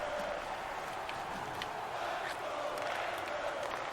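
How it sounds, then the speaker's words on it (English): Arena fans roar in a steady, distant wash during the closing minutes of an Edmonton Oilers hockey game in NHL 20, with scattered sharper crowd bursts rising above the continuous din. "So you can hear the fans,"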